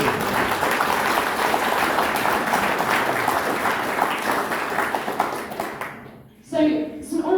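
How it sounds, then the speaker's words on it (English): An audience at a political speech by an MP breaks into loud, sustained applause that dies away near the end, and a speaker's voice then resumes. "So let's have a round of applause for that."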